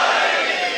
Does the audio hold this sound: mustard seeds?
no